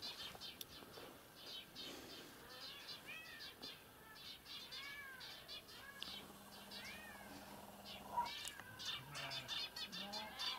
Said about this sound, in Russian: Это мурлыка мой, наверное.